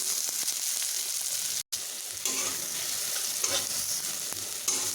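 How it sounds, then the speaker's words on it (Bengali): Chopped onions hit hot oil flavored with cinnamon and fry with a steady, close crackling sizzle, broken by one brief silent gap, as they are stirred in the pan. "এখানে আমি কুচি রাখা পেঁয়াজগুলোকে দিয়ে নিচ্ছি"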